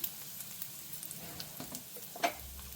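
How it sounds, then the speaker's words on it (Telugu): Tempering spices frying in hot oil for a kanda bachali curry, a soft, close crackle and sizzle with a few sharper pops, the strongest near the end, and no talking. "పోపు వేగిందండి"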